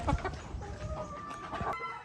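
Breeding hens cluck in short, uneven bursts nearby, with a busy farmyard hum underneath and a few higher squawks.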